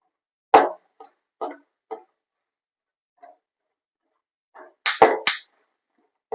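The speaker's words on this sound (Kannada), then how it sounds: "ನೋಡ್ರಿ ಚಟಾಪಟ ಅಂತ ಸಿಡಿತೈತಿ" Sharp, scattered pops and crackles of seeds in hot oil over a low flame while making chitranna, a few isolated snaps followed by a quick cluster of louder bursts, close by with no talking.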